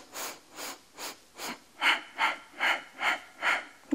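Heavy rhythmic breathing during a Pilates exercise with a small ball, about nine breaths in steady succession, close and moderately loud, with no talking.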